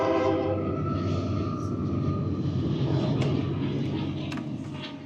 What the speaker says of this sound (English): Hold on, we got a train.